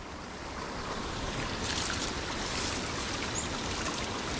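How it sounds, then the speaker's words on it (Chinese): A clear mountain stream on a hiking trail on Mount Towrong rushes steadily over stones, a constant broadband wash close to the microphone with no voices. "这里面有小溪，怪不得。"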